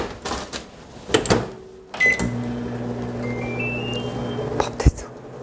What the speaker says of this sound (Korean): 잘 녹았으니까 전자레인지에 40초간 데우면 된대요